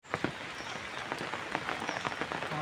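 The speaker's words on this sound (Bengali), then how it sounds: "এত বৃষ্টি হলে কি হয়?" Heavy rain pours steadily onto a surface, a dense continuous hiss with scattered sharper drops and patters throughout.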